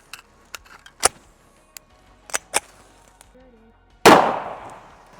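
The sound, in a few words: 1911 pistol firing .45 ACP at diet soda cans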